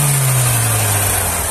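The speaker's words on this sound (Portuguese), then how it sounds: "O homem vai dar a partida no carro, família, pra que vocês possam ouvir o som do motor." A car engine runs loud and near at a used car and motorcycle fair, a steady low idle hum with a slight rev, alone without talk.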